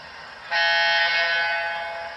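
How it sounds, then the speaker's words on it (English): A single long, steady whistle blast from a Southern Pacific GS4 model steam locomotive kicks in after a brief moment and holds for nearly two seconds, bright and harmonic, fading slightly toward the end. "So 25 is a long whistle, like I just said."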